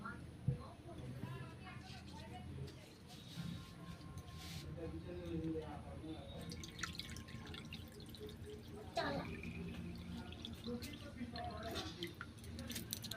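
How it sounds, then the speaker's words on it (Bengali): Soaked lentils (dal) are washed by hand in water, giving soft sloshing, squishing and dripping sounds close by, with a person talking over them. "ডালটা এবার ভিজে গিয়েছে অনেকটা, ভালো করে ধুয়ে নেব"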